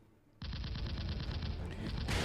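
A Sten gun fires a sustained rapid burst in an audio drama, a dense rattling volley of shots starting abruptly and continuing for about two seconds, loud and close.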